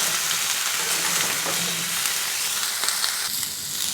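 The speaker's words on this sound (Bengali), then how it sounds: "গুঁড়ো মশলা দিয়েছি এবার মশলাগুলো কষিয়ে নেব" Ground coriander, cumin and turmeric with a splash of water fry and get stirred in a pan, giving a steady close sizzle with scraping stir strokes throughout.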